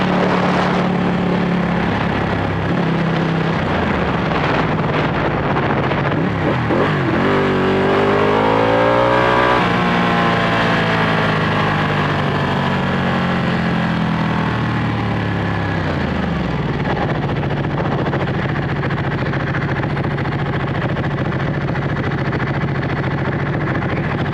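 A Ducati 1199 Panigale sport motorcycle engine revs and rises in pitch with jumpy throttle blips, swelling through several sweeps mid-clip before settling into a steady, loud drone heard close up with no talk.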